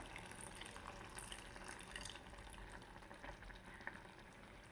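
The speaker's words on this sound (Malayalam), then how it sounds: "ആ ജ്യൂസ് നമ്മൾക്ക് ഇതിലേക്കൊന്ന് ഒഴിച്ചു കൊടുക്കാം" Tamarind juice is poured into a simmering tomato curry, giving a faint, steady hiss of bubbling and sizzling liquid throughout, with no voices.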